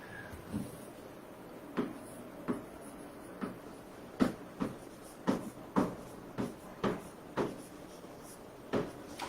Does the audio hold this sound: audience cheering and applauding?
no